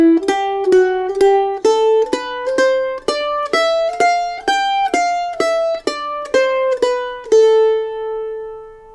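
A mandolin plays the third phrase of the fiddle tune 'Paddy on the Turnpike', a walking line of about a dozen bright, evenly spaced plucked notes that ends on one ringing note, played solo and close.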